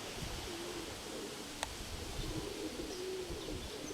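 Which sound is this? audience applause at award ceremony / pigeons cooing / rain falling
pigeons cooing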